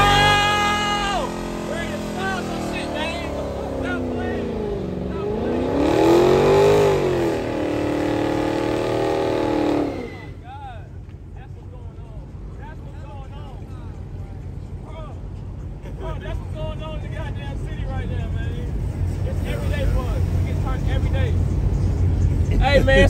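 Dodge SRT cars street racing in Houston, a loud engine roar swelling and sweeping in pitch for several seconds, then dropping to a lower rumble with voices talking over it.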